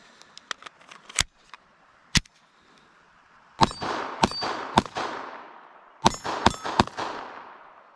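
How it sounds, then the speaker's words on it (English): A small Taurus TX22 handgun fires a series of sharp, close reports. A few quieter pops come first, then loud cracks in quick clusters, each with a ringing, echoing tail. Nobody speaks. "Just an absolute pleasure to shoot this little handgun, Taurus TX22."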